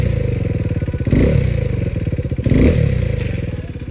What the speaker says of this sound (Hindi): ये देखो गाइस, ये रही तुम्हारे भाई की बाइक की आवाज़